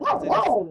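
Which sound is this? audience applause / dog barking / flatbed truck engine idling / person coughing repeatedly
dog barking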